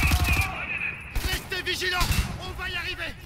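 Rapid bursts of game gunfire from Wolfenstein: The New Order crackle in the opening half-second, then someone speaks over lighter shots and in-game action through the rest.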